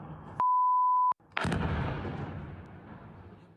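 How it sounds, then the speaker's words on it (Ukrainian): A drone strike explodes near rubbish bins outside a residential building in Kharkiv, heard as one sharp, loud distant blast with a long rumbling decay, preceded by a steady electronic tone. "Дрон поцілив у сміттєві баки біля під'їзду."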